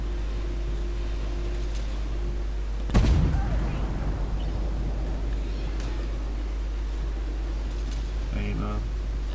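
A single sharp tank cannon shot from the Armoured Warfare video game, featuring the Taifun II, cracking out once over a steady low engine hum, with a voice talking in the background.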